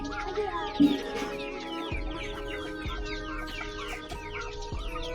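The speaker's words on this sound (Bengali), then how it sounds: "মুরগিগুলো দেখুন" Desi and tiger chickens cluck and chirp continuously close by, with scattered low thumps and shuffling beneath the birds and no talking.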